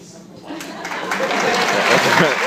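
Audience applause at a comedy set swells from a quiet start into a broad, dense wash of clapping, with voices mixed in underneath.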